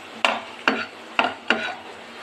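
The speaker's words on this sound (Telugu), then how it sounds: "కొంచెం ఆయిల్ వేడెక్కాక ధనియాలు, జీలకర్ర, ఒట్టిమిరకాయలు వేసి కొంచెం డీప్గా వేయించుకుందాము." Coriander seeds, cumin and dried chillies frying in hot oil in a pan, with four distinct sharp scraping stirs over a faint steady sizzle, close and without speech.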